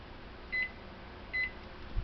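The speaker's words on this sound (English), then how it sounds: "And then the timer goes off, and it's been 1 hour." A kitchen timer gives two short, evenly spaced electronic beeps, faint and alone in a quiet kitchen, marking the end of an hour of oven canning pasta.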